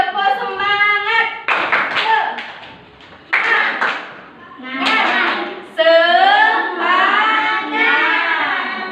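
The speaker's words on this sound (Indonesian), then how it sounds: "Tepuk semangat." Elementary classroom in Indonesia with children performing a rhythmic clapping chant, sharp bursts of hand claps alternating with loud sung and shouted group voices in a patterned call-and-response rhythm.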